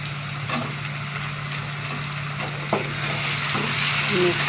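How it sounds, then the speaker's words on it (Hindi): Mutton sizzles steadily in a hot pan with ginger and garlic while being stirred, a constant close frying hiss broken by occasional scrapes and clinks of the spoon, with a low hum underneath. "अब हम इसके अंदर अदरक लहसुन डालेंगे।"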